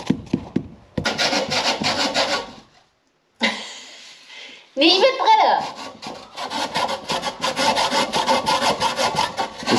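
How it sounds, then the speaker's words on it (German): Repeated back-and-forth strokes of a hand saw cutting through wood, close and loud, with a short pause and a brief voice partway through. "Ist die Säge scharf, ja?"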